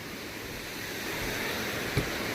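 McCormick Creek Canyon Falls waterfall in McCormick Creek State Park pours as a steady, dense broadband rush of falling water, constant and fairly close, with a single soft knock near the end.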